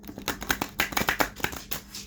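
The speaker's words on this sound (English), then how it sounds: "Make sure I'm shuffling on your person" Tarot or oracle cards being shuffled by hand at close range, a quick series of soft papery riffles and slaps in an uneven rhythm, with no talking.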